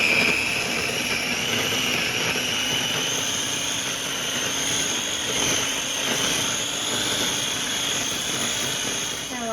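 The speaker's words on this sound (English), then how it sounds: "Now I'm gonna puree it with my handy dandy KitchenAid food processor." A KitchenAid food processor purees a sun-dried tomato vinaigrette, its motor giving a continuous whirring roar close by that holds steady for nearly ten seconds with no talking over it.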